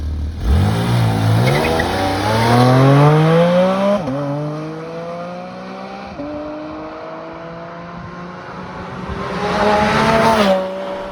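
A Porsche Boxster Spyder RS accelerates hard along an open road with the top down, its engine note climbing through several gear changes in loud, rising sweeps.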